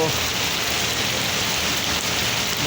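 Heavy rain pours down on a street in Dhaka as a dense, steady roar of hiss and patter, loud and close, with no voices.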